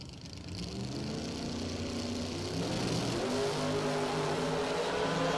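An old Firebird and a Camaro idle and rev at a drag strip, a loud, layered engine roar that builds steadily in strength throughout.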